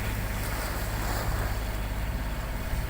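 A sailboat motors slowly at sea under engine power, about 3 knots, with a trysail up for steadying. A constant low engine drone sits beneath broad, steady wind and water rush, with no talking.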